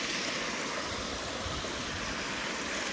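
Forest stream at Thuy Liem on Nui Cam, steady broadband rushing and burbling water close by, continuous and loud throughout with no voices.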